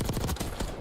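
Rapid automatic gunfire from a Call of Duty esports match fills a brief burst, loud dense shots rattling in quick succession with no voice over it.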